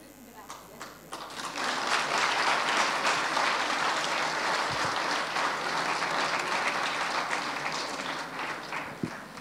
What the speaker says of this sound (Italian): l'applauso va a tutti voi